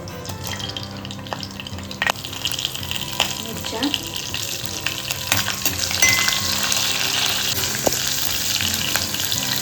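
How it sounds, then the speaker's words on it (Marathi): Cumin seeds crackle and sizzle in hot oil as a tempering, with scattered pops and clinks of a utensil, growing slightly louder toward the end. "फोडणीला आपण घालतोय जिरं"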